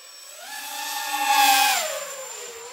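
A 3S-powered RoboCat 270 RC plane makes a full-throttle pass on a fresh battery, its high motor whine rising in pitch and loudness as it approaches, then dropping away sharply as it passes and recedes, with no talk over it.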